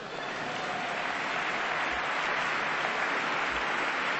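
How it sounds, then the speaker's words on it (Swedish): An audience at a 1997 film awards gala gives a steady wash of applause, sustained and even for several seconds without a break. "hörde jag en liten applåd där?"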